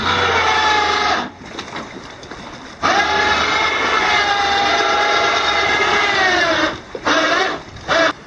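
A boat's outboard engine being raised by an electric tilt motor, a loud sustained whine that cuts in and out several times with short pauses between runs.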